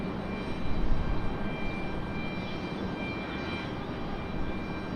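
Arriving airliner at Raleigh-Durham airport, a broad steady engine roar that swells briefly and then holds, heard alone and at a distance.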